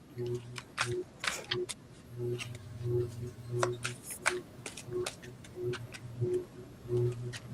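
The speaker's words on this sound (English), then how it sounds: "I'll make sure I give these a good shuffle on my new deck." A new tarot card deck being shuffled, giving repeated short papery riffles and snaps in an uneven rhythm, heard close up over a low steady hum.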